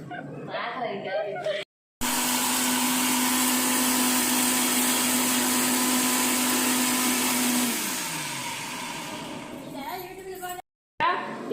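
A mixer grinder blends ingredients finely for tamarind rice, whirring loudly and continuously for several seconds, then winding down with a falling pitch; brief kitchen noise before and after.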